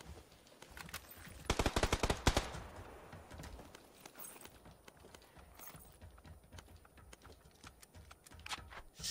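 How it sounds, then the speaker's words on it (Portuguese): Rapid bursts of gunfire in the battle game PUBG on Xbox One: a dense cluster of sharp shots near the start, then scattered single shots and short volleys through the rest. "O cara tá me atirando"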